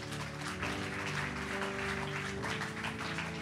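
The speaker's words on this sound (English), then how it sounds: "Can we clap for that?" A church congregation claps together in a dense, steady wash of applause, with sustained musical tones ringing underneath throughout.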